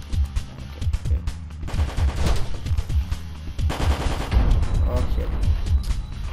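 Rapid automatic gunfire from the video game Low Poly Hitman, with dense bursts of loud, close shots in two volleys, and a player's voice briefly speaking over the shooting.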